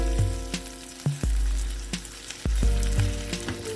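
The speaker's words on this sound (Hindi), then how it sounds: "इसको भी हम 1 मिनट तक भून लेंगे।" Ginger-garlic paste frying with onions in a pan for an egg and brain masala, loud close sizzling and crackling with periodic spoon strokes, and no voices.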